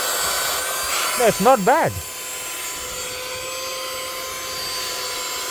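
A rechargeable car vacuum cleaner from Temu running with a steady high-pitched motor whine close by throughout, while a person talks briefly over it.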